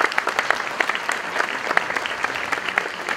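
Audience applause at a public event, dense steady clapping from many hands throughout, close and lively with no talking over it.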